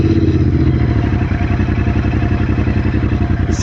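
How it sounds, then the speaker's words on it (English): A Royal Enfield GT 650 twin fitted with an AEW aftermarket exhaust, close up and loud, with a rapid, even pulsing beat from the engine running throughout, alone with no talk. "जब हम उसको rev करते हैं तब थोड़ा sound आता है."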